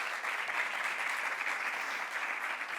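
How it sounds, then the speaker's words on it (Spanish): Audience applause at a cosmetics brand pride event, a continuous, even patter of many hands clapping together, moderately loud and steady throughout the short stretch, with no voices heard. "Un aplauso"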